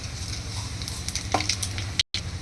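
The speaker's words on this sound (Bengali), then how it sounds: "এর মধ্যে ফোড়ন দিচ্ছি শুকনো লঙ্কা, একটা তেজপাতা আর কিছুটা সাদা জিরে" Dry red chilli, a bay leaf and cumin seeds tempering in hot oil, a steady close sizzle and crackle with a few small pops, cut by a brief dropout near the end.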